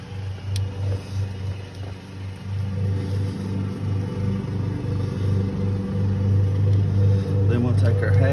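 A car engine idles steadily after a fuel pump replacement, a low constant hum with a strong low-pitched drone that slowly builds in level; a voice talks over it.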